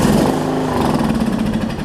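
A Briggs 14hp engine on a John Deere 125 rider mower runs steadily and loud after cranking, a close, continuous rumbling drone with a slightly uneven throb throughout.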